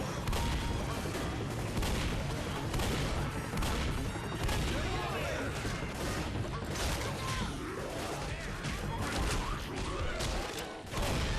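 Shotgun fire in Left 4 Dead, a relentless barrage of close blasts and thuds with mechanical clatter amid chaotic game noise, a voice talking underneath throughout.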